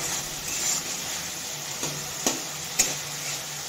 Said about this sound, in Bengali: মাংসের মশলাটাকে কষিয়ে নিচ্ছি, টমেটো কুচি দিয়ে দিয়েছি